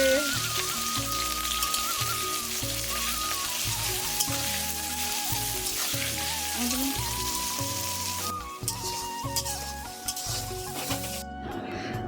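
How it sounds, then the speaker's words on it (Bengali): Onion and chili fry in hot oil in a home kitchen. A dense, steady sizzle crackles throughout, with faint clinks of stirring. It fades briefly near the end and then cuts off. "পেঁয়াজ আর লঙ্কাটা ভাজতে গিয়ে আমার হাতে একটু তেল ছিটে এসেছিলো"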